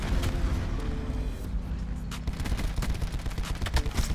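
Rapid, sustained Tigershark LMG fire in a Call of Duty match: dense bursts of automatic shots rattling almost continuously at close range, with booming low impacts layered underneath and no pause across the stretch.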